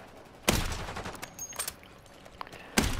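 Sniper gunfire in a video game battle: a few sharp, loud shots spaced apart, one at the start and one near the end, with faint smaller cracks between them and no talking.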